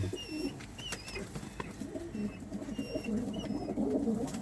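Pigeons in a loft coo steadily while being vaccinated, low rolling calls repeating close by with a few higher chirps and some handling noise over a busy background.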